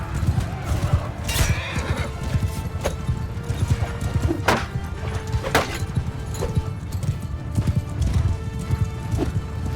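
In the Mount & Blade II Bannerlord video game, horses' hooves clop in a rapid, continuous gallop while sharp whinnies and battle impacts break through, all close and loud.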